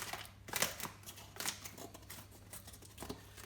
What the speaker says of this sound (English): take a pair of scissors, and we just need to cut the valve away from the bag